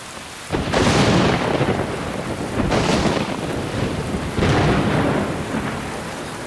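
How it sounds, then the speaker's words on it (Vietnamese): Rain and thunder from an animated film: heavy downpour hissing continuously while three long rolling thunder crashes surge in one after another, loud and close. "Con trai à, mau đi tránh mưa thôi."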